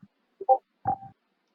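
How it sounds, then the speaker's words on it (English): During a tabletop Dungeons & Dragons session, a played recording gives off a few short, wet, gurgling croaks like someone burping underwater: a faint blip, then two throaty bursts with a pause between, all in near silence. "It sounded kind of like someone trying to burp underwater."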